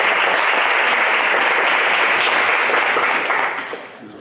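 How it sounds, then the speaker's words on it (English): Audience applause greets a guest doctor at a small talk-show style event, a steady dense wash of clapping that stays loud before thinning and fading over the last second. "Can we please give a round of applause for Dr."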